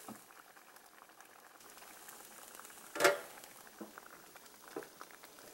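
Lentils bubble softly at a low boil in a pot, a faint continuous simmer with one sharp clatter midway and a few light stirring knocks.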